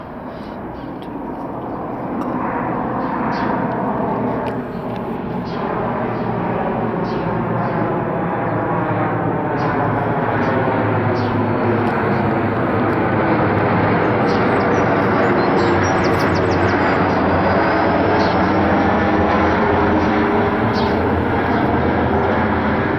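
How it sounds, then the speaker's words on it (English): A Wizz Air Airbus A321 jet airliner roars steadily nearby at an airport, its engine noise swelling and holding loud throughout with a shifting whine. "Wizz Air A321"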